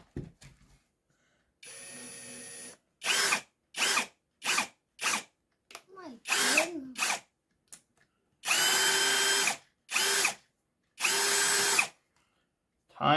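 Temu knockoff of a Milwaukee 3602-20 compact hammer drill/driver running in a series of bursts: a long whine, several short quick pulses, then three longer loud runs, close up with pauses of near silence between.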